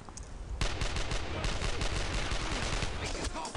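Dense sustained gunfire in the WWII shooter Brothers in Arms: Earned in Blood, loud rapid automatic bursts overlapping one another continuously, with a quieter start before the shooting erupts.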